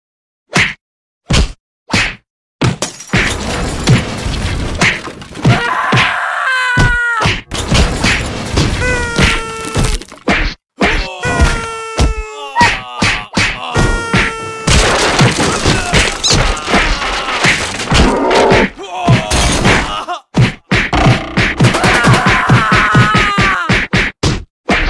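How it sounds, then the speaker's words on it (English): Sharp loud bangs, crashing impacts and breaking glass, then a stretch of high shrill screaming or wailing, with more smashing and thuds throughout. "witnesses recall hearing loud bangs, glass breaking, and screaming."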